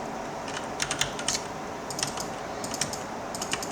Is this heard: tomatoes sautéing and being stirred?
no